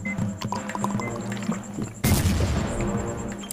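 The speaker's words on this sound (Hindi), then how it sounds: "खा भाई बम से उड़ जा भाई" A bomb goes off in the video game The Twins: Roof Escape, a sudden loud blast over busy game sounds and music, its roar lingering for over a second.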